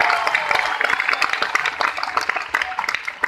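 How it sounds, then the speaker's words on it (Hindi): An audience claps at a motivational business gathering, dense overlapping hand claps rising and falling in a steady, fairly loud burst. "तालियां बजानी हो तो जी खोल के बजाओ, कंजूसी मत करो।"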